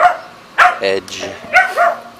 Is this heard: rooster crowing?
no